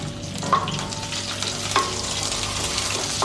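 Green chilies, mustard seeds and curry leaves frying in hot oil, a continuous crackling sizzle with a couple of sharper pops and a stirring scrape, close and without talk.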